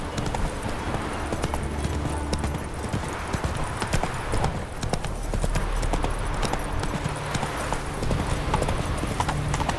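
Geralt's horse Roach from The Witcher 3 gallops with steady, rapid hoofbeats that run continuously throughout, loud and close, with faint in-game ambience and a brief whinny-like sound beneath.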